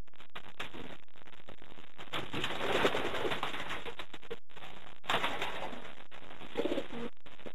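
Racing pigeons coo softly in a loft, with low murmuring calls in bursts amid rustling and occasional clicks, fairly close and without talk.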